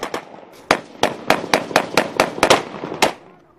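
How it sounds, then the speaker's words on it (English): Machine gun fire during an army attack in Gao, Mali: irregular bursts of about a dozen sharp, loud cracks in quick succession, with short gaps between the clusters. "They sprayed wild bursts of machine gun fire at them."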